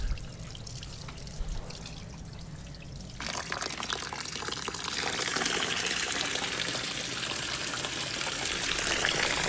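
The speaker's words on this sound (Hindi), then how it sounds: "अब दोबारा इसको अच्छी तरह हाथ से मल कर धोते हैं।" Wheat grains washed by hand in water, rubbed and sloshed with constant dripping and pouring that turns noticeably louder and fuller partway through, close up with no talking.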